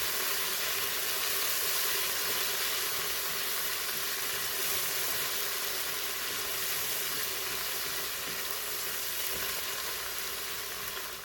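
Chopped garlic, ginger and green chillies frying in a tablespoon of oil for a moong masoor dal, with a loud, steady, close sizzle that holds unbroken and has no voices over it.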